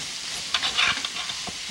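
Sausage and potatoes frying in a skillet give a steady broadband sizzle with a few brief stirring scrapes, close and loud, with no talking.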